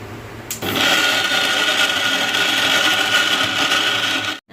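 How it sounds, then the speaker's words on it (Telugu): A kitchen mixer grinder whirs loudly as it grinds urad dal into flour for sweet laddus. The motor kicks in after a short pause, holds a strong, even drone, then cuts off abruptly. "ఇలా అయితే వేసుకొని బాగా మెత్తగా అయితే మిక్సీ పట్టేసుకుందాం."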